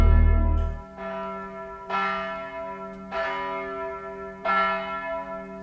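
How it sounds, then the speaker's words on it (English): Bells of a nearby church ringing in slow, evenly spaced strokes, four distinct rich peals each left to hum and fade before the next, heard alone without voices. "I heard the bells ringing in the nearby church"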